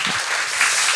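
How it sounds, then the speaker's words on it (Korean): A church congregation applauds briefly, a short burst of dense, steady clapping from many hands across the room, heard alone without speech. "우리 편집팀 한번 수고했다 박수 한번 쳐드릴까요?"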